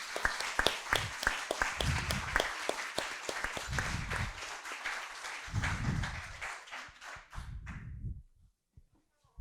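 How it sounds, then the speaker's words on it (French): An audience at a French eloquence contest evening claps in crisp, scattered bursts with occasional low murmurs beneath, then the applause thins and fades out near the end. "l'accueillir avec les applaudissements."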